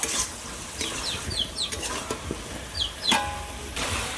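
Broiler chicken fries in oil with spice masala while being stirred, giving a close, steady sizzle with short scraping strokes and light clatter of a utensil in the pan, without speech.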